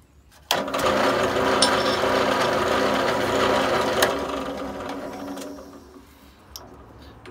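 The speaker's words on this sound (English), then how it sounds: "this drill press is like 30 years old" A 30-year-old drill press motor starts with a click and runs with a steady mechanical whir and rattle for several seconds, then winds down, with occasional sharp ticks.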